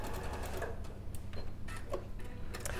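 A sewing machine runs steadily, stitching a quarter-inch seam on quilt pieces, a continuous close mechanical whir with faint clicks throughout.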